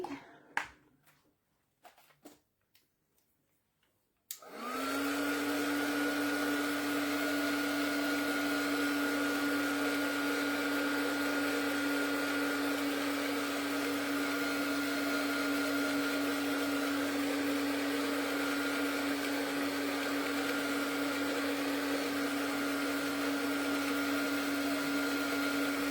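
After a few quiet clicks and taps, a handheld drying tool switches on and blows air over a craft frame, a steady, loud whirring hum with a constant pitch that continues unbroken.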